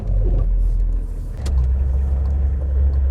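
A car with a 2.8-litre non-turbo diesel engine accelerates down a road, a loud low engine rumble dipping briefly then surging again, heard from inside without talk.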